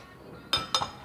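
Two quick metal spoon clinks against a bowl while flour is measured out for a Christmas cake, the second followed by a small rattle, close and alone after a quiet stretch.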